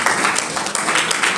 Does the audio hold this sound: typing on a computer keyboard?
no